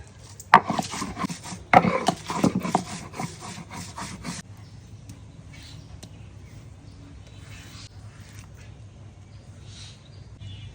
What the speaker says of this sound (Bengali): এখন চিংড়ি মাছের খোসাগুলো পিষে নেব সুন্দরভাবে